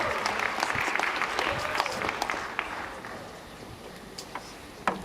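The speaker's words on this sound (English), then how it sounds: "Can we please give them a round of applause?" Audience applause at a Milestones of Freedom campaign event officiated by President Cyril Ramaphosa, a dense crowd clapping that gradually thins and fades toward the end with a few isolated claps.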